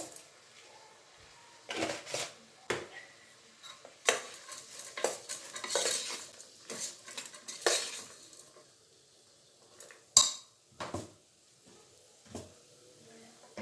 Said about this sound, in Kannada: ಇದಿಷ್ಟು ಮಿಕ್ಸ್ ಮಾಡ್ಕೊಂಬಿಡೋಣ